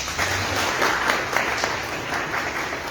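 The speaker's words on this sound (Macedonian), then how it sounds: "Да ги поздравиме со аплауз." Audience applause at the Vaptsarovi Branuvanja 2022 award ceremony in Delčevo: a hall full of people clapping steadily for about three seconds, crisp individual claps standing out from the dense patter.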